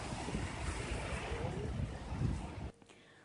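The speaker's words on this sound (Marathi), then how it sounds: "सध्या मांजरा धरणातून एकशे सत्तेचाळीस क्युसेकने पाण्याचा विसर्ग सुरू करण्यात आला आहे" Water roars steadily from the six opened gates of Manjara dam near Latur and Beed, a dense, loud rushing wash that runs for most of the stretch and then drops away abruptly near the end.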